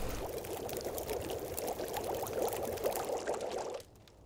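Water poured into a pot to boil over a fire in the survival game The Long Dark, a continuous trickling stream that runs steadily for several seconds before stopping abruptly.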